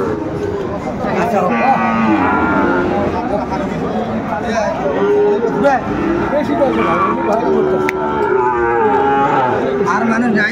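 Sahiwal bull calves moo at a busy cattle market, with drawn-out lowing calls rising over a continuous hubbub of crowd chatter and nearby talking.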